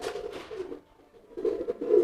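Pigeons being fed peanuts coo softly nearby in a couple of low, rolling bursts separated by a short quiet gap.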